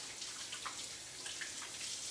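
Tap water runs into a kitchen sink during hand washing after handling raw chicken, a soft steady splashing flow with small drips, fairly faint and without talk.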